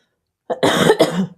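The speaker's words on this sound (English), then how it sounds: "sorry about the coughing" A single short, harsh cough with a throaty rasp, close and loud, in two quick bursts.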